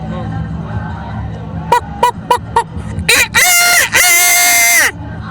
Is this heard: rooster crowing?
yes